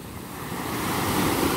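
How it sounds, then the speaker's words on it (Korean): Waves surge and crash on a West Sea beach at Daecheon, a continuous broadband roar of surf building louder over the stretch, with some wind noise and no talking. "서해안 바다에서 이 정도 파도 치는 거는 참 드문 거예요"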